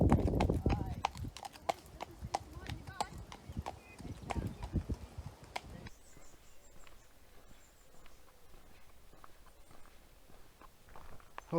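Horses' hooves clip-clop on a countryside trail with riders passing, loud, close and irregular at first, then fading to faint scattered steps.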